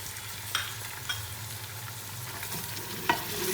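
Goat trotters fry in a pot with dried coriander and cumin, giving a steady close sizzle under three sharp spoon scrapes from stirring, spaced irregularly across the stretch.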